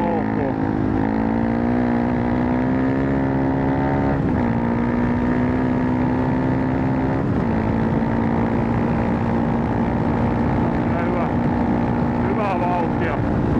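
Tuned Honda CRF300L dual-sport motorcycle engine heard from the rider's seat while under way, a loud steady drone with pitch shifts as the revs change, mixed with wind noise.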